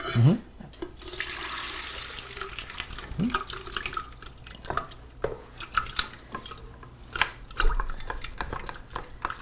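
Koji mixture is poured into a container in a home kitchen, with soft wet sloshing and dripping, clinks of a spatula against dishes, and scattered clatter, fairly quiet and close throughout.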